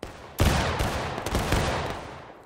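A musket volley fired by a line of infantry in a video game: a sudden loud crash of many shots at once, followed by a rolling, ragged crackle of fire that slowly fades.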